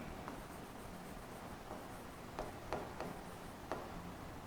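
Pen or marker scratching on a board during an accounting lecture on non-resident direct tax, a few sharp taps and strokes standing out over a steady low room hum, no voices.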